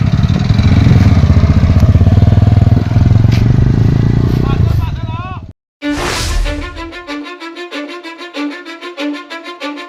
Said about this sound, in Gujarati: બાઇક ચાલુ થવા દે યાર